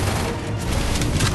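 Dense gunfire in a battle royale video game, a loud continuous barrage of shots and booms with no pauses, filling the short moment.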